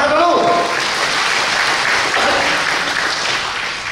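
Audience applause at a Dhamma sharing talk, a dense steady wash of many hands clapping close and loud, with a brief voice at the start.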